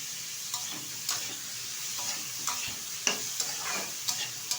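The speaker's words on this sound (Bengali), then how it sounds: "ভালো করে ভেজে নিচ্ছি।" Steady sizzling of vegetables frying in a pan for chow mein, with periodic scraping and stirring clinks from a utensil every second or so.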